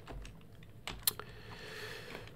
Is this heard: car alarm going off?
no